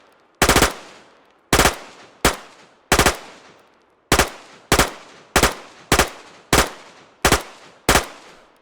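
Automatic gunfire from a weapon in the DayZ Expansion mod video game, with about a dozen sharp, loud bursts spaced roughly half a second to a second apart, each ending in a short decaying tail, with no talking.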